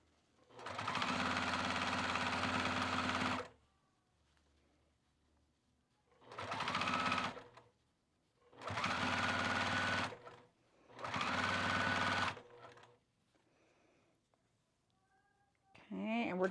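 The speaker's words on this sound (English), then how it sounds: "do a very close stitch on this, okay? Sew as close as you are comfortable." A sewing machine stitches overalls fabric in four loud, steady bursts of rapid mechanical whirring, each lasting a few seconds with quiet pauses between, close to the listener.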